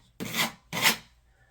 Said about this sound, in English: scrape as much of it off as you can.